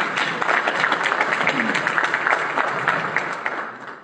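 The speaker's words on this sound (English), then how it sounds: "Let's give them a round of applause." Applause from an audience at a Cleveland mayoral debate for Wards 1 and 2, a lively burst of clapping that stays loud throughout and tapers slightly at the end.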